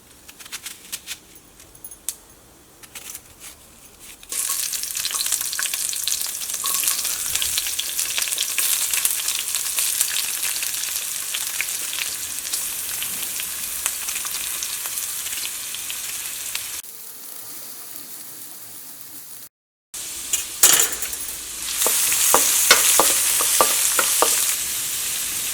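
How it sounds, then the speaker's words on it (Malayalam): Onions fry on a low flame in a pan, giving a steady close sizzle with intermittent clinks and stirring scrapes, quiet at first, then fuller, with a brief gap and a sharper burst of crackling afterward. "ചെറിയ തീയിലിട്ടിട്ട് ഇത് രണ്ടും നന്നായിട്ടൊന്ന് മൊരിഞ്ഞ് വരട്ടെ."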